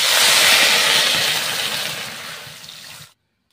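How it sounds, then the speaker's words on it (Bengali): Water poured into a pan of sautéed taro for a tamarind curry, a loud broad rushing pour that holds steady for about three seconds, tapers slightly, then cuts off abruptly into silence. "এবার জল ঢেলে দেবো।"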